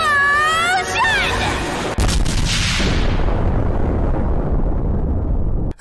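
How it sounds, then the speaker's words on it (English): A magic explosion spell from the Konosuba anime erupts loudly after a brief rising tonal whine, then booms into a sustained, roaring blast that fills the clip and slowly decays with heavy rumble. "Explosion!"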